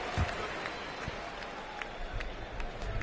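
Home crowd cheering in a simulated basketball video game tournament, a steady broadband roar with scattered claps and shouts, continuous through the moment at moderate level.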